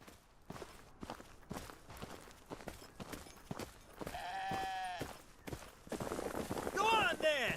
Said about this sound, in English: Come on, little goat.